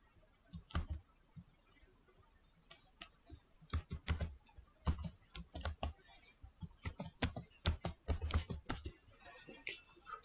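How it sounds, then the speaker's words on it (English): Typing on a computer keyboard in a quiet room, irregular bursts of close, crisp key clicks that speed up and cluster toward the end, no talking. "Now type your own word which you want to add"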